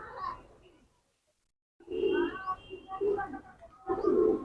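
Lalsara pigeons coo in close, rolling bursts: one short phrase, a silent gap, then several louder, throaty coos in quick succession.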